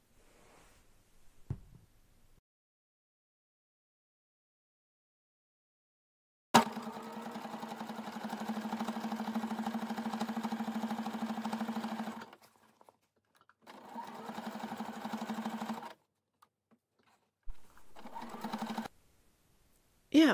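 A sewing machine topstitches close to the upper edge of a fabric pouch bag, running in a long steady hum for several seconds, pausing, then a shorter run and a brief final burst, heard close and clear.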